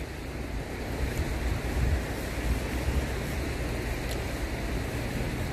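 The Pescia river flows down from the mountains, a steady broadband rush of water close by, mixed with some wind noise and no voices.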